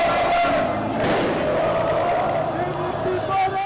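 Adanaspor's orange-and-white team convoy rolls through Adana past a loud, dense crowd of supporters cheering and shouting continuously in the street, with a voice talking over the din.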